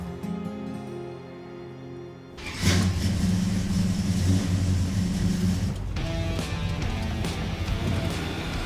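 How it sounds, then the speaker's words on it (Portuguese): A restored Dodge Charger's engine starting up and running: a low idle hum, then a sudden louder rumbling roar that holds steady, close by and dominant, easing slightly toward the end. "Este carro anda bem, Joey."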